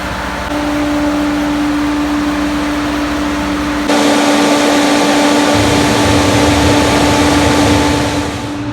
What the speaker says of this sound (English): the dryer's full and running